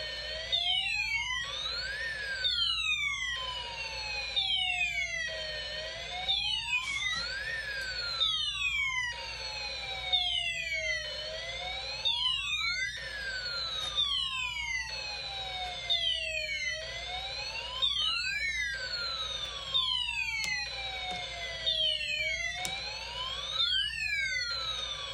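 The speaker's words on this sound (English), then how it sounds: "This is a Space War alarm combo." A Snap Circuits Classic Project 10 Space War alarm toy circuit plays a repeating electronic siren, sharp sweeping tones that rise and fall in a steady looping cycle for the whole stretch, loud and close with no voices.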